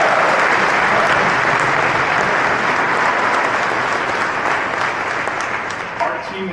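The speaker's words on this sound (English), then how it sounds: "So, a little round of applause." A full room of audience members claps at a tech product keynote, producing thick, continuous applause that gradually tapers off as a voice begins to come through near the end.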